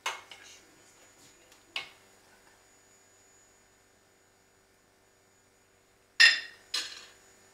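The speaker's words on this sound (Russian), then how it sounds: "немножко перемешиваем, чтобы все плавало вообще" Food is stirred in a pot, heard as a few sharp metal clinks of a spoon against the pot, one at the start, another near two seconds and a pair later, with quiet hum between them.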